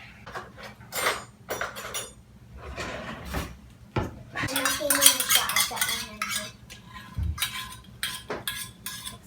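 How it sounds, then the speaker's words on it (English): A utensil stirs a thick, salty maple syrup bacon cure in a bowl, scraping and clinking against the sides in irregular bursts, with occasional dish and drawer knocks close by and no talk. "we're taking this goop and we're going to stir it all in"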